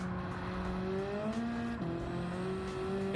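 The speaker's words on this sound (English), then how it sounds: "So right now, I'm just going to be cruising on Gran Turismo" A car cruises in the Gran Turismo racing game, driven with a gear shifter: a steady engine drone climbs in pitch, drops at a gear change and rises again, heard alone.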